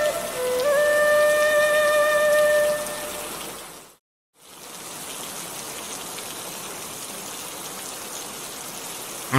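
Steady rain hisses and patters through a cartoon scene, dense and fairly loud, cutting out briefly midway before resuming; tonal music notes sound over the start.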